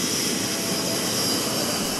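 Dutch F-16 fighter jet in flight at the 2012 Florennes International Airshow in Belgium, a steady, loud, broad jet roar that holds without a break.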